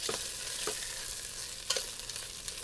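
Pasta sauce browns in a pan on a cooktop with a steady, close sizzle, broken by a few soft scrapes or stirs; no voices.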